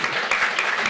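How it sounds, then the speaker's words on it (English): Audience applause in a hall during a panel talk on the Palestine question in Europe, a steady burst of many hands clapping close and dense, filling the short moment alone without speech. "maybe we could keep the applause until the very end"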